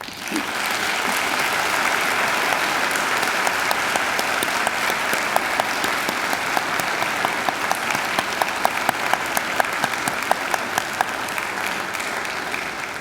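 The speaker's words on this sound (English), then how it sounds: "give them a hearty round of applause." A large crowd at a university graduation ceremony claps in sustained, hearty applause, with sharp individual claps popping out above the wash as it continues steadily.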